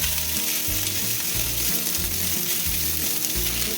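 Asparagus sizzles and crackles steadily in hot oil in a pan, with rhythmic stirring and scraping throughout.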